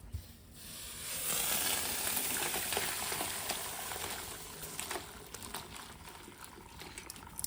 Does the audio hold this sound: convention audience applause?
no